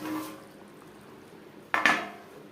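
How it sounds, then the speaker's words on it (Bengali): A spoon scrapes and clinks against a pot while ghee and garam masala are mixed into potato and pointed gourd gravy, a faint swirl at first, then two sharp close metallic knocks near the end. "ঘি গরম মশলা গ্রেভির সাথে বেশ ভালো করে মিক্সড করে দেবো"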